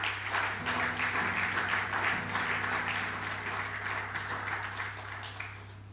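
A church congregation breaks into steady, loud applause that carries on for several seconds, a dense wash of clapping over a constant low electrical hum, gradually thinning out toward the end.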